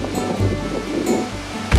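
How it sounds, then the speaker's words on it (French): A waterfall in Norway pours in a steady, loud rush of falling water, a continuous broadband roar that holds without pause. "je suis tombé sur une assez belle cascade"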